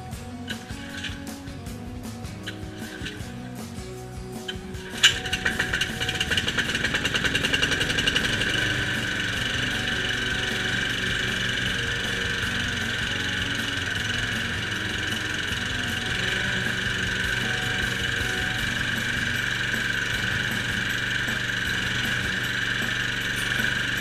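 A Toro CTS-2 lawnmower engine running after a cold start in 15-degree weather, with a rough, rattling idle that jumps up to a steady, close, loud mechanical drone with ticking and clattering throughout.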